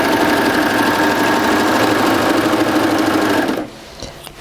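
A Baby Lock serger overlocks a fabric edge at high speed, a loud, rapid, steady mechanical whirring close by that stops abruptly near the end.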